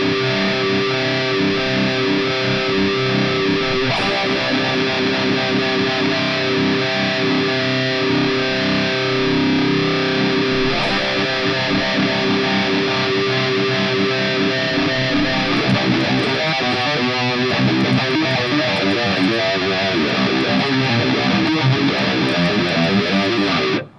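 A heavily distorted metal guitar runs through a Phase 90-style phaser on a Fender Tone Master Pro, playing loud sustained riffs that swirl and sweep, with no talking throughout.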